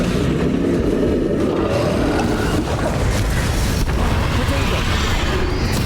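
Hogwarts Legacy combat fills the air with continuous loud spell blasts, booms and crackling bursts layered densely, while a voice shouts over the din.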